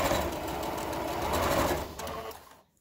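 A sewing machine runs steadily for a couple of seconds, stitching straight along pinned fabric, then slows and stops; the motor and needle rattle is close and loud, with no talking.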